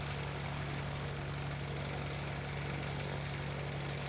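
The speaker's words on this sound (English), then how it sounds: "Beautiful takeoff." A propeller airplane takes off at an air show during a STOL exhibition, a steady loud engine and propeller drone with a pulsing low throb, continuous with no talk.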